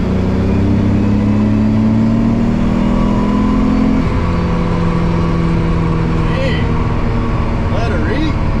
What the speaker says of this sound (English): Boosted as hard as I push the gas.